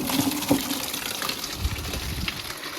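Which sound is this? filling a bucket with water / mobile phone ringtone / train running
filling a bucket with water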